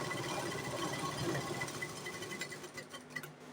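An electric sewing machine stitches a katori blouse with a close, steady whirring hum, then slows and sputters toward the end.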